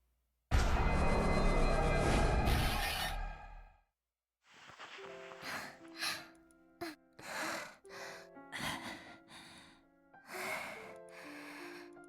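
A girl pants in a dark room in the Chaos;Child visual novel: a loud breathy burst, then a run of short, uneven panting breaths with voiced, whimpering tones, close and alone.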